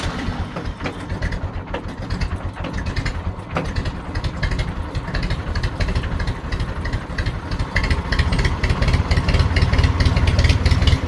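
A Farmall 450 diesel tractor engine, running on gas, starts up and settles into a steady, loud low-pitched idle with constant mechanical rumble and vibration throughout.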